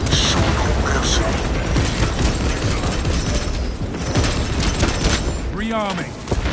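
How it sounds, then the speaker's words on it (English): Frag grenades bursting in Warhammer 40,000: Space Marine 2 amid dense, continuous gunfire and mechanical clatter, loud and close, with a short voice line near the end. "Releasing frag grenades."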